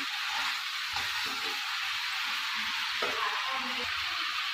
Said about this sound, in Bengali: প্রায় কষানো হয়ে এসছে।